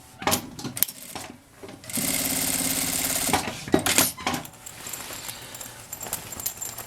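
Sewing machine stitching closed the turning opening in a fabric lining: a steady run of fast mechanical whirring about a second and a half long, framed by clicks and fabric handling nearby.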